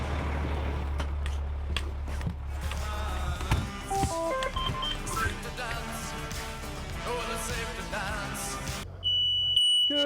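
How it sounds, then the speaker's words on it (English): Smoke alarm sounding indoors in a fire-station setting, a steady electronic beeping tone amid background clatter and rumble, with a sharper, louder burst of high beeps near the end. "That's the sound of a smoke alarm going off."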